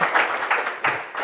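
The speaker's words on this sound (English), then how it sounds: "Can I get a round of applause for pink sand?" Brief applause from a live conference audience, a short burst of clapping with a few surges, heard from within the room.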